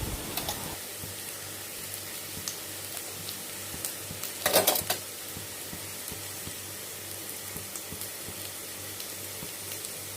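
Vegetables stir-frying in a pan for chicken fried rice, a steady soft sizzle with light scraping and stirring throughout and one brief louder clatter midway.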